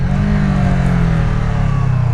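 A Kawasaki ER6n motorcycle pulls away from a standing start on the road, its engine note loud, close and steady and climbing through the revs, with no speech over it.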